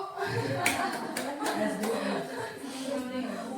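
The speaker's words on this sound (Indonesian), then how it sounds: "Kita tolong tepuk tangannya untuk Ibu Aisyah" Scattered audience clapping for a teacher at a school training session, with several distinct sharp claps heard under ongoing talk and light chuckling.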